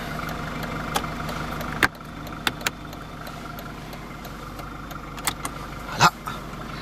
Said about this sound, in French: on va écouter la sonorité moteur de cette Mercedes